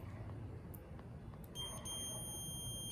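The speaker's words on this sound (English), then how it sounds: "When you hear that beep, that lets you know that you have continuity." A digital multimeter set to continuity gives a steady electronic beep as its test lead touches an antenna ground radial's circular eyelet, starting partway through and holding to the end over a low background rumble.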